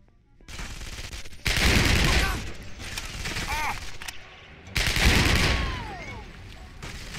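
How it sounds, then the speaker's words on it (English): Gunfire aimed at a snowmobile in the video game Contract J.A.C.K. comes as loud, dense automatic bursts with mechanical clanks and whirring ricochet-like sweeps, broken by short quiet gaps. "Can I just like shoot the snowmobile down?"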